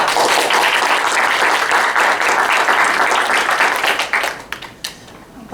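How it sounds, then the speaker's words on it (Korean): A hall audience claps in loud, sustained applause at a Korean business presentation, a dense wash of hands that thins and breaks into scattered final claps near the end. "다시 한번 큰 박수 부탁드립니다."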